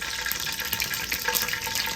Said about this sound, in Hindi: चमचे को थोड़ा सा पानी लगाएं